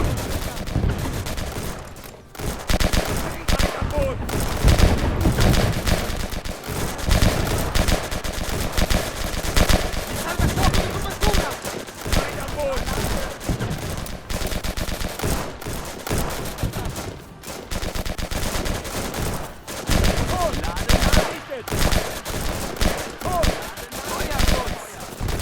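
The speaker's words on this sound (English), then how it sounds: "That rocket barrage you see is actually coming from a German battleship just offshore." Rocket barrage from a German battleship just offshore in the Easy Red 2 war game, a dense, continuous rattle of rapid gunfire and explosions, loud and unbroken.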